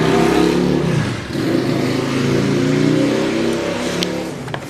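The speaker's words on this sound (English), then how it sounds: "Bloody motorcycle." A motorcycle engine passes close by outside a model shop, a loud droning rev that dips briefly then holds steady before fading slightly toward the end, with no talking.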